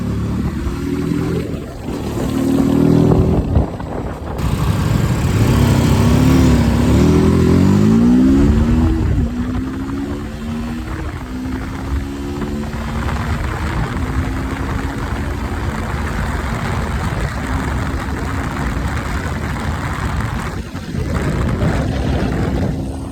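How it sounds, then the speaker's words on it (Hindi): A 2026 TVS Apache RTR 310 motorcycle engine downshifting through the gears, loud and close, with revs blipping and dropping in stepped pitch sweeps before settling into a steady drone. "मैं गियर डाउन कर रहा हूँ, ये देखो।"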